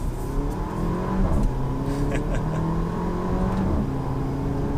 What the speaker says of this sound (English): You get a nice little gurgle on the exhaust.